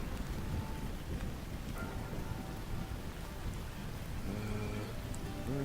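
Recorded rain plays as a steady, close, even hiss of heavy rainfall with a low rumble of thunder beneath and faint tonal blips toward the end.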